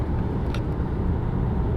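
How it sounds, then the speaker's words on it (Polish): A Volvo XC60, a large SUV, cruising steadily at 120 km/h, giving a continuous, loud low rumble of road and engine noise with broadband wind roar throughout and no break. "zaczyna być słychać opory aerodynamiczne, to jednak jest duże auto, nie uciekniemy przed tym"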